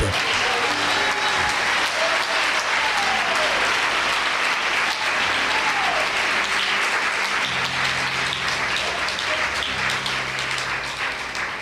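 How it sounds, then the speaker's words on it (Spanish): A church congregation breaks into loud, sustained applause that stays dense and even for over eleven seconds, with scattered voices and faint tonal sounds beneath the clapping. "Dele un fuerte aplauso a ese Dios inteligente."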